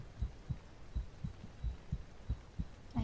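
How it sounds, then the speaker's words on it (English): Heartbeat heard through a 3Dio binaural microphone in a live ASMR stream, steady low thumps about every half second, close and soft, with faint static accompanying each beat in one ear. "I can hear the heartbeats, but it doesn't sound normal."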